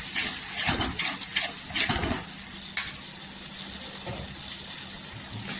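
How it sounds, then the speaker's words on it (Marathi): Masala paste of Kashmiri red chilli powder and tomato purée sautéed in hot oil for a spicy crab curry, a steady close sizzle broken by several louder bursts of stirring and scraping. "आता आहे ना मसाले एकजीव पूर्णपणे करून घ्यायचा आणि परतून घ्यायचं, एकत्र करायचं।"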